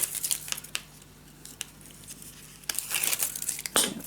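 Adhesive backing peeled off a paper-crafting piece for a mini scrapbook album, a crinkly papery tearing that comes in a few close rasps, strongest toward the end, with no talking.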